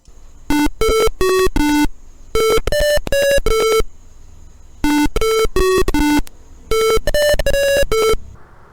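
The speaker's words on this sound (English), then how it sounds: "this is the converted 8-bit audio in Arduino" Converted 8-bit audio played back on an Arduino: four loud bursts of bright, buzzy square-wave beeps, each a quick run of stepped tones, separated by short silences and alone.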